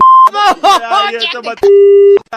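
A steady electronic tone starts and stops, then talking runs over a warbling line, followed by another long flat tone like a disconnected call, loud and close.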